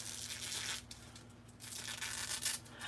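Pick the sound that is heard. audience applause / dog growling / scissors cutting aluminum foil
scissors cutting aluminum foil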